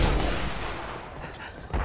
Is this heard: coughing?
no